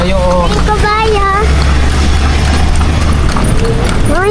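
Horse hooves clip-clopping in a steady rhythm, loud and close, with high harmonic vocal sounds over the start and end.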